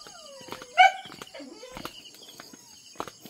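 Soft, high whimpers and one short yelp from puppies on a livestock farm, close by, with faint rustling in between.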